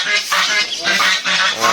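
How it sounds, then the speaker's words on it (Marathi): Ducks at a water park near Shirdi give loud, close honking calls in several quick bursts that rise and fall over less than two seconds. "आणि इकडं बदक आहे"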